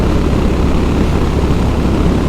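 A Honda Highness CB 350 motorcycle speeding along, its engine roar blending with heavy, steady wind rush throughout.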